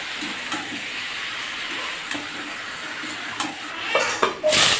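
Chicken being stirred in a pan over medium-high heat, giving a steady close sizzle with scraping stir strokes and a louder burst of frying near the end.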